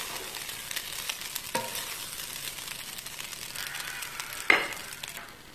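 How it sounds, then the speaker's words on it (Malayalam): Fried rice with soy sauce and fried egg being stir-fried in a pan, a soft continuous sizzle with scraping stirs and a sharp clatter of the utensil near the end, no talking. "ഇനി ഇത് നല്ലോണം മിക്സ് ചെയ്യാം"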